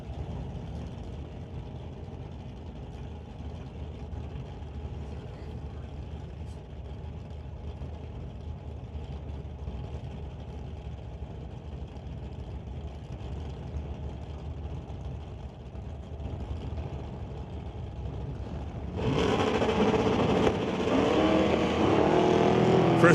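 Drag race cars, including the Stone Cold Racing Dart, drone steadily at the start line, then a much louder, brighter engine roar bursts in near the end as a car launches down the quarter mile.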